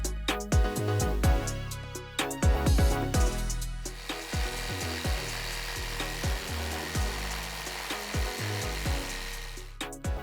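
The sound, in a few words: bandsaw cutting curves into a wooden table leg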